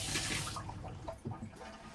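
A tap runs in the bathroom of an Elddis Autoquest Signature 150 motorhome, giving a soft, close hiss of flowing water that is strongest at the start, then settles into quieter splashing and trickling.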